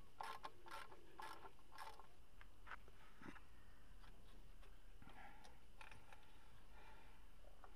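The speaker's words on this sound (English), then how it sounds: "Using quite a short stubby ratchet here because there really isn't very much room." A short stubby ratchet turns a bolt in a cramped engine bay of a Freelander 2 TD4, with quiet clicking bursts of the pawl in short irregular runs, faint and close.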